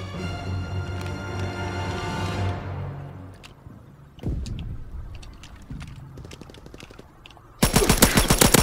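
Full-auto M2 carbine fire in Call of Duty: WWII: a sustained burst of rapid shots, then scattered single reports and clattering, ending in a loud, dense close-range volley.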